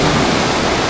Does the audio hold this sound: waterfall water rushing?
yes